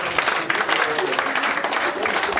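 An end-of-year 2025 community celebration audience in Mechanicsburg breaks into dense, loud applause, a steady crackle of many hands clapping throughout.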